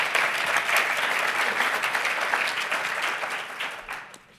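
A conference audience at PyData London 2022 lightning talks gives a big round of applause, dense and loud at first, then tapering into scattered claps toward the end.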